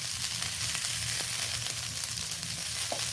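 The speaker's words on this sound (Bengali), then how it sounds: "ফুলকপি একটু ভাজার জন্য বেশি তেলের প্রয়োজন হয়" Cauliflower sizzling in about two teaspoons of oil in a pan, a steady loud frying hiss with faint stirring clicks throughout.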